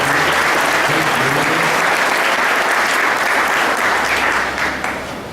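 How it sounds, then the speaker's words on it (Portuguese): A church congregation at a Sunday Mass claps for children preparing for First Communion, a loud, dense burst of applause that holds steady before tapering off at the end. "Dá uma salva de palmas para as crianças."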